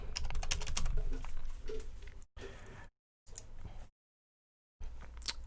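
A password is typed on a computer keyboard during a KDE Neon Linux install, a quick run of close keystroke clicks broken by short silent gaps.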